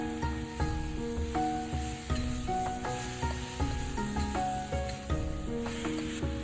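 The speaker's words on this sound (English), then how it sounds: "Now we add in the special tofu and the vegetables." Tofu, mushrooms and vegetables crackle and hiss in a hot pan during a stir-fry, a steady close sizzle broken by repeated light stirring clatter.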